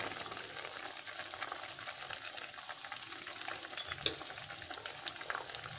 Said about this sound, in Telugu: ఆ ఉడుకు పైన బాయిల్ అవుతుంది కదా దాని పైన అలాగ వేస్తే చాలు